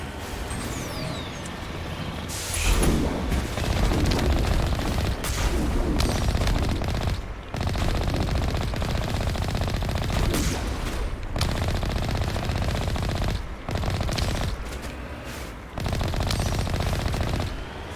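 Sustained enemy gunfire in Mass Effect 1, loud, dense automatic bursts running almost continuously with brief gaps, close and overwhelming, with no voices.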